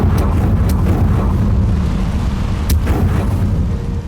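A Confringo fire spell blasts in Hogwarts Legacy on PS5, a loud, booming burst heard up close over a heavy rumbling roar, with a couple of sharper cracks cutting through the sustained noise.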